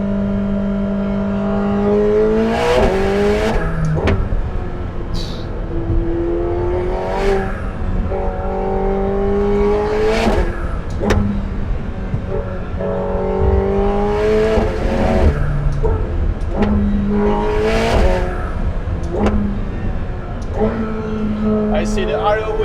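A McLaren 750S sports car accelerates hard on an open German road, its engine rising in pitch through repeated gear changes with sharp shift breaks between surges. It is loud and close, with excited voices talking over it.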